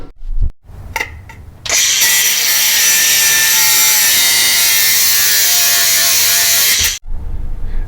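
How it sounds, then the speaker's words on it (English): A steady, loud grinding-saw cut through a broken exhaust bolt on a UTV runs for about five seconds, preceded by a few short bursts of the tool starting and stopping. "we're going to go to the next step and cut it and then drill it out"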